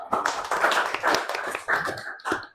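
A class of students claps for a classmate in an Indonesian classroom, a brief ragged round of hand claps in uneven bursts that fades out.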